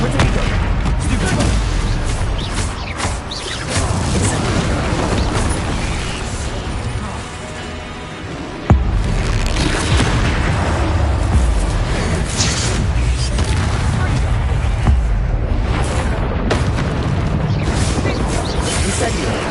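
Incendio fire spells cast in Hogwarts Legacy, with whooshing flame bursts and booming impacts layered over dense battle noise, a sharp crack near the middle, and a voice speaking over it.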